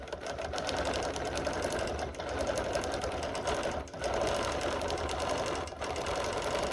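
A sewing machine runs steadily at a slow pace, appliquéing a tree shape with black thread. Its fast needle clatter is continuous and close, broken by a few brief pauses.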